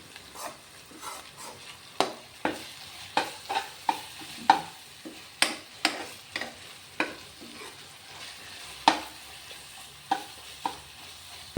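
Mutton biryani of meat and rice is stirred in a pot, a ladle scraping and clanking in an irregular run of sharp, fairly close knocks over a faint sizzle, with no talk.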